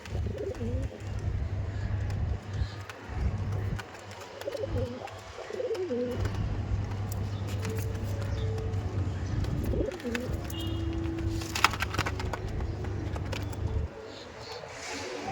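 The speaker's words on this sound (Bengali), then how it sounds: "প্রচুর অ্যাগ্রেসিভ পায়রা, প্রচুর। এই দেখুন, আমার বলতে হচ্ছে না, পায়রা ছাড়লাম, দেখুন।" Madrasi pigeons being released, soft low cooing repeating near and steady under a faint background hum, with a few brief chirps and flutters.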